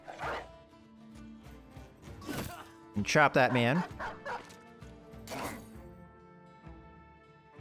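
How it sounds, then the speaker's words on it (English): A war dog in the Battle Brothers video game barks and yips in short bursts, loud and close, mixed with whimpering cries, while someone talks over the action. "let out the War Dog"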